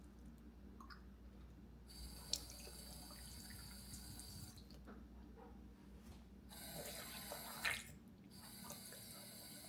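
Water runs into the large reservoir of a Dupray Neat steam cleaner, a quiet, continuous trickle and gurgle with a few faint clicks and a brief swell as it nears full.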